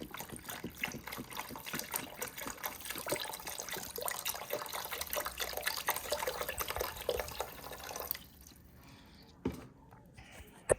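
Chicken stock pours steadily into a homemade roux in a pot, a continuous liquid gush and splash for about eight seconds, then stops, leaving faint drips and small kitchen clunks.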